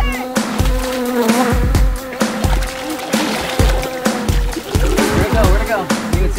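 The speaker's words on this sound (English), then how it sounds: "Bees right now." Bees buzz close around a backyard pool on a hot day, wavering drones coming and going in bursts, mixed with water splashes and thuds.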